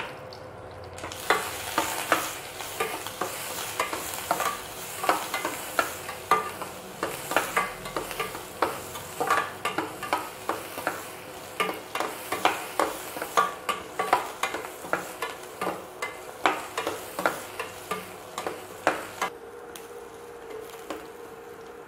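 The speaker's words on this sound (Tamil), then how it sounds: "வெங்காயம் வதங்குற அளவு கொஞ்சமாக சால்ட்டு போட்டு வெங்காயத்தை நல்லா வதக்குறேன்" Onions frying in a pan with green chilli and curry leaves as a utensil stirs them: a steady sizzle with repeated scraping strokes at a brisk rhythm, close and fairly loud, ending abruptly with the sizzle alone.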